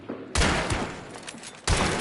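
Two loud, close gunfire bursts ring out in the video game Hunt: Showdown, one near the start and another toward the end, with reverberant decay between them.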